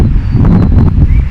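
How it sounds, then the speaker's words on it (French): Strong outdoor wind roars and buffets the microphone in a steady, heavy low rumble, loud and close, with faint rustling mixed in. "j'essaye de me mettre à l'abri du vent."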